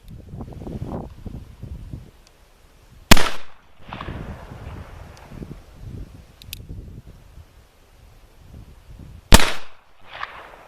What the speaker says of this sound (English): One-handed is the traditional way to shoot this gun.